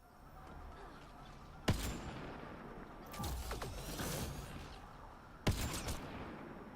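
Bursts of gunfire in the video game Mass Effect Andromeda during a fight with outlaws, with sharp loud cracks at intervals and scattered shots between them over a constant background din.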